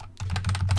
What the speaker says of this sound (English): I could just start typing